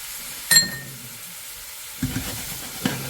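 Apples with brown sugar and cinnamon stirred in a pan, a few close scraping and clinking strokes with a faint sizzle between them and quiet gaps.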